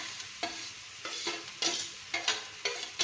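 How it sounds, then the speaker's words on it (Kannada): Greens being stirred and fried in a pan on the stove, with repeated scraping strokes over a steady sizzle, close and alone. "ಸೊಪ್ಪನ್ನ ಚೆನ್ನಾಗಿ ತಿರುಗಿಸ್ಕೊಂಡು"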